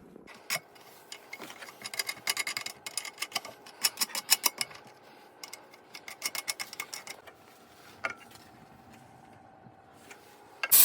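An autoclave lid for canning fish is closed and fastened with a run of sharp metallic clicks and ratcheting taps in quick bursts, then a quieter pause and a final clunk.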